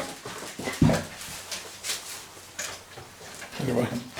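Playing Labrador puppies 43 days old give high whimpers and short yips at close range, two louder squeals standing out, while a person talks over them.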